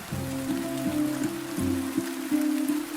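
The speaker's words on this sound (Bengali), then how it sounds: "বৃষ্টিটাও আবার শুরু হয়ে গেল" Rain falls on a surface in a cartoon rainstorm at nightfall, a steady close patter with repeated bright tonal drips and taps spread evenly throughout, with no voices.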